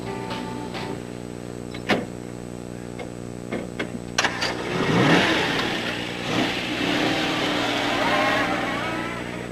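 A car engine cranks and fires, then revs hard with a surging roar that stays up, after a few sharp clicks and under occasional talk, in an old film scene.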